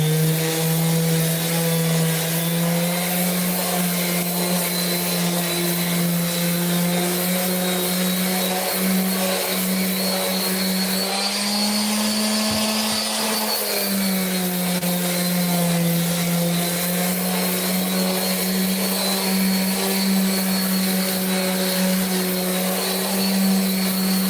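A power sander with 100, 180 or 240 grit paper whines steadily on wood, a constant buzzing drone with a gritty rasp that shifts pitch slightly midway.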